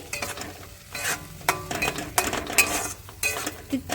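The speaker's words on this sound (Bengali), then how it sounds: "দু থেকে তিন মিনিট কষিয়ে নেব মশলাটা" Spice paste for a chicken and new-potato curry, made with dried red chilli, being sautéed in a pan, with repeated scraping strokes of a utensil against metal and a soft sizzle, clinking at intervals.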